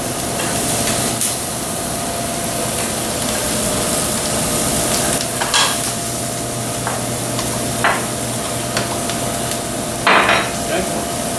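Quail frying in a hot pan while being flipped, a continuous close sizzle broken by several sharp clacks and scrapes of utensils against the pan.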